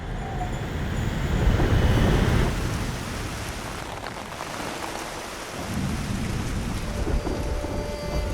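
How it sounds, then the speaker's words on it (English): Steady heavy rain falls in the mountains, a loud continuous hiss with a low rumbling swell near the start, constant and unbroken throughout. "Still raining here, and the forecast is calling for more rain."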